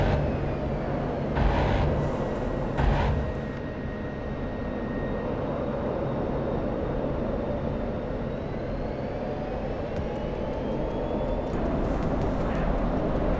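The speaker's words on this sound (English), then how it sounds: "you'll hear the throttle going in and out" Steady roar of an F-16 Viper jet engine in the flight game DCS World, loud and continuous, with the pitch shifting gradually as the throttle moves in and out during a dogfight; no talking.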